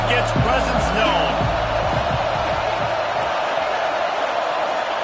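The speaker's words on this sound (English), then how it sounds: "This crowd ready to make its presence known." A college football stadium crowd roars in a loud, sustained wash of cheering and noise, with a voice briefly heard at the start before the din carries on alone.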